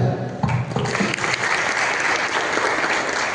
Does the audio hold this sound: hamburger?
no